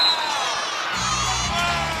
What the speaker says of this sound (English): Crowd was howling after that collision at half court.